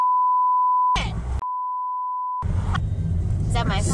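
A phone emits two long steady tonal beeps, each about a second, clear and loud, separated and followed by bursts of car noise and a person talking.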